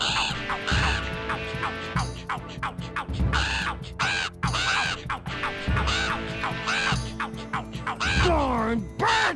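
A flock of crows in The Grinch video game keeps up loud, raspy caws in rapid overlapping bursts over game music, with a lower honk-like call near the end.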